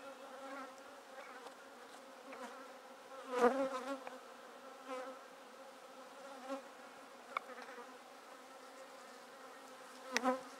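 Bees buzzing in and around a pagoda top-bar hive holding worker brood and a queen, a close, continuous layered drone with a few louder swells as individual bees pass near.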